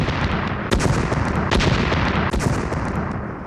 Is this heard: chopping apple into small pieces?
no